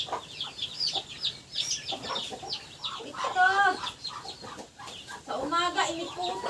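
Chickens and chicks cluck and cheep close by in a busy, overlapping chorus of short calls, with higher peeping bursts in between.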